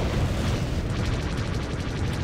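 Space combat from Star Wars: The Old Republic's starfighter PvP, a photon torpedo blast rolling as a dense, sustained roar with crackling texture, loud throughout with no distinct onset.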